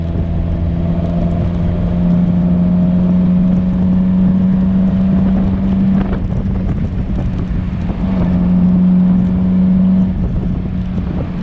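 A 1954 MG TF's engine drones loudly from inside the moving car, its pitch rising and holding in two revving pulls, with wind rush throughout.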